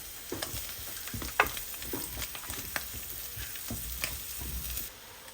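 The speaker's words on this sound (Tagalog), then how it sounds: "Lalagay ko na itong bawang at sibuyas" Garlic and onion sautéing in a pan, a steady close sizzle broken by irregular clicks and scrapes of stirring, with no talk, before the sound drops away near the end.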